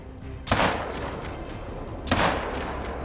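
Two loud, sharp booms from a 45-70 rifle fired at buffalo in a video game, spaced about a second and a half apart, each trailing off into a rumbling decay.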